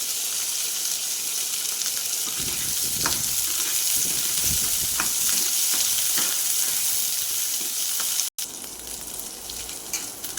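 Pointed gourd, beans and eggplant fry together in hot oil with a dense, loud, hissing sizzle throughout, some low scraping stirs in the middle and a brief break near the end.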